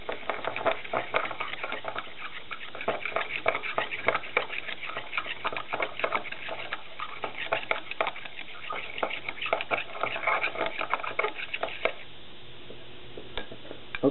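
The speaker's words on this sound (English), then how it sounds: "And then stir with the stir rod." Steady clinking and scraping of a stir rod swirling a solution in glass while making copper(II) chloride, repeated in a quick irregular rhythm, close by with no talking.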